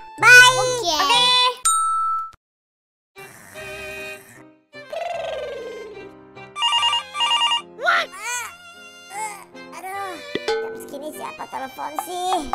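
A telephone rings in the Roblox video game, with bright repeated electronic ring tones in bursts. High-pitched cartoonish character voices chatter between and over the rings.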